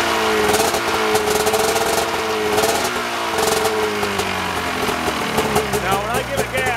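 An Arctic Cat F7/M7 EFI snowmobile engine runs steadily near the listener, a continuous mechanical drone under someone talking.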